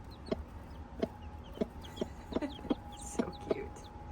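A mother hen clucks near newly hatched chicks, a string of short, evenly spaced clucks close by, with faint high cheeps in the background.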